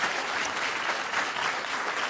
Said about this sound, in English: So another round of applause to two of the most extraordinary leaders in journalism.